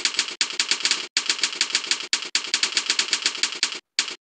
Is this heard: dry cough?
no